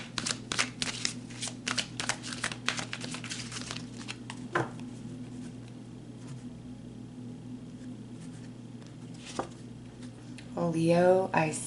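Tarot cards being shuffled up close in quick, rapid bursts of riffling and flicking, followed by a quiet stretch with a few isolated taps, then a short spoken passage near the end.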